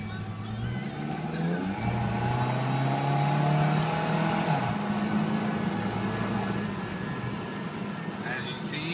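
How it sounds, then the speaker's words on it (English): Toyota Tacoma pickup engine under full acceleration, a steady rising drone heard from inside the cab, moderately loud and continuous throughout. "under full acceleration, engine has plenty of pickup and power"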